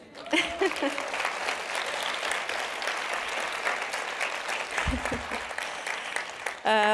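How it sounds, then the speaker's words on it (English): Audience applause at a design talks event, a dense burst of clapping from a seated crowd that holds steady for several seconds, with a voice speaking near the start and a brief sound at the end. "I think that deserves an applause."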